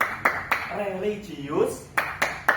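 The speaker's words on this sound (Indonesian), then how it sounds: "Bapak contohkan terlebih dahulu tepuk PPK." Teacher's rhythmic class clap in a madrasah classroom, several sharp claps spaced in a pattern, interleaved with his spoken chant.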